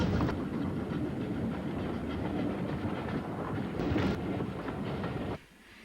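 Special passenger train double-headed by two former Southeastern 0-6-0 steam locomotives, O1 Class 31065 and C Class 31592, on a branch line near Horsmonden, rumbles past steadily with loud rolling wheel noise and clatter, then drops away abruptly near the end.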